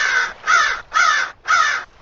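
Four loud, evenly spaced crow caws ring out alone, each about a third of a second long, from a crow in a Jurassic dinosaur survival video game.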